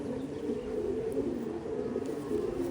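Soft, steady cooing of a pure Rajan-breed pigeon, a low throaty murmur running continuously and close by with no other sound over it.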